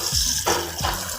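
Water pours and splashes into a bowl holding one cup of rice for soaking, a close, steady gush with brief surges.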